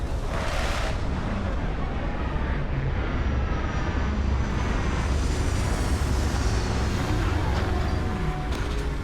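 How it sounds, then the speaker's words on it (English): Retro thrusters of a spaceship fire during landing in the video game Starfield, a loud, steady, dense engine roar that stays close and unbroken throughout, with a brief brighter burst near the start. "Landing struts primed. Retros firing."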